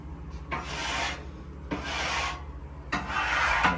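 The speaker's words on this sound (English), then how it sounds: "I'm gonna scrape all the juices off the grill, get it dry again." Metal scraper dragged across a hot cooking griddle after pulled pork, clearing off the juices: three separate rasping strokes, each starting sharply and rubbing on for about a second, loud and close with a low steady hum underneath and no voices.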